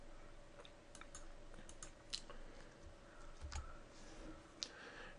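Faint typing on a computer keyboard, scattered soft key clicks at an irregular pace under a low background hum.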